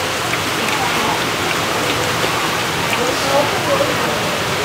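Steady rain falls across an outdoor gathering where children collect sausages and soft drinks, a dense even hiss that runs throughout with voices murmuring faintly underneath.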